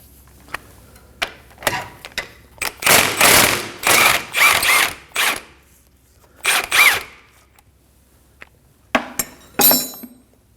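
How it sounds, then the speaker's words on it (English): A ratchet with a 17mm socket backs out the bolt on a front lower ball joint of a 2016-2020 Kia Optima, in repeated short bursts of sharp clicking separated by pauses. "we're going to use a 17mm socket and take the bolt out"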